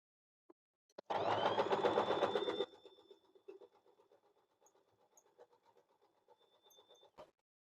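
An Usha Janome sewing machine briefly whirs through a quick burst of buttonhole stitching, a loud close run of about a second and a half, followed by faint scattered clicks and handling noises.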